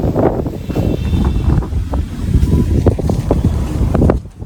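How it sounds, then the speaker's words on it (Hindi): Strong wind blows hard outdoors around a village, buffeting the microphone with loud, gusty low rumbles and flutters that rise and fall without pause. "मौसम के साथ साथ हवा भी बहुत तेज चल रही है भाई"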